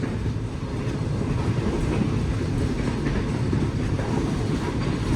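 The Shah Hussain Express passenger train runs at speed, heard from aboard as a constant loud rumble with faint rhythmic wheel clatter and no letup.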